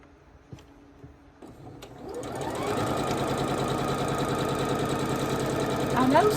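Sewing machine stitching the snowballed corners of a quilt block, starting after a few soft clicks and then running in a steady, fast, close whir to the end.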